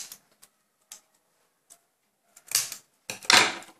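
Scissors cutting a paper finger puppet, a few faint sparse snips at first, then louder, denser crisp cuts and rustling paper close by near the end.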